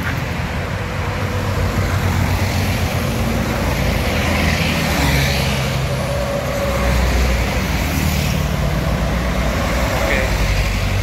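An intercity Sumatran bus of the Sembodo line roars past on the cross-island highway, a loud rumbling engine and road noise swelling and fading over several seconds, with other heavy traffic droning alongside.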